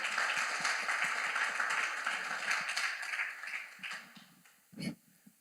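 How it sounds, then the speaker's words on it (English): Faint audience applause at a 2023 men's empowerment summit, a soft wash of clapping hands that steadily dies away, leaving a few isolated thumps near the end. "give C.T. Wilson another round of applause"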